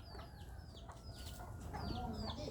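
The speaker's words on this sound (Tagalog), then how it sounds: "Ang ganda ng labuyo oh, na manok." Soft red junglefowl rooster clucks and chirpy calls repeat through the clip over a steady rural outdoor background hum, with no talking.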